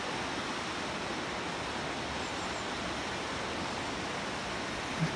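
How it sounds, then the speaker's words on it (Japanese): Steady broadband rushing of the river in the Hozukyo gorge near Hozukyo Station, Kyoto, running nearby, continuous and even throughout with no voices. "川とかいいですね、音とか"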